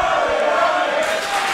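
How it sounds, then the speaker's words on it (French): A wrestling crowd in Rennes roars in a loud, sustained wall of noise, steady for the whole stretch with no break. "la foule de Rennes fait un bruit monstrueux"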